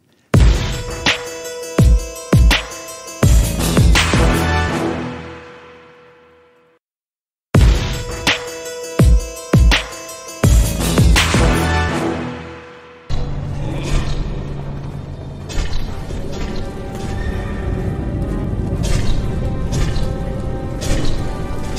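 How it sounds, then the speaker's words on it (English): Gory splattering from the World of Warcraft Corrupted Blood plague: a run of sharp wet impacts with ringing tails, a brief silence, more hits, then a dense, noisy wash of overlapping splatters and moans. "Those splattering sounds, each one represents one player bleeding out hundreds of hit points."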